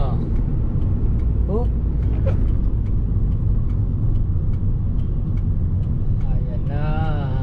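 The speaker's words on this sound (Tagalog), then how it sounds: "Medyo traffic lang mga kautoy." Steady road traffic with cars and buses on a road into Cubao and Cainta, heard as a continuous low rumble of engines and tires close by. A few brief voices and a short squeal rise over it near the end.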